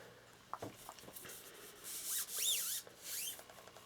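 A cloth wipes excess protective coating off the metal of a Ruger 10/22 rifle, making soft, close rubbing and squeaky swiping strokes, with a couple of light taps early on.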